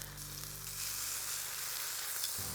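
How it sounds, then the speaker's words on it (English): Pork chops sear in a hot pan, two at a time, giving a steady, close, even sizzle that runs without a break and with no talking. "I'm only going to sear 2 at a time because that's what I can fit in my pan."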